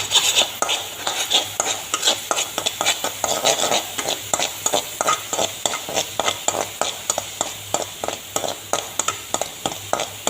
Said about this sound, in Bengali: পেঁয়াজ আর রসুন বাটা ভাজা ভাজা করে দিয়েছে। এখন আমি মশলার গুলাটাই দিলাম।